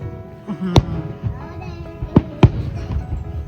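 Three sharp fireworks booms ring out at irregular intervals, distant and echoing, over a steady murmur of crowd chatter and children's voices at a US 250th anniversary celebration.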